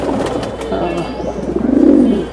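Pigeons at a pigeon market coo in low, throaty rolls, a louder swelling coo rising near the end over a murmur of market chatter and voices.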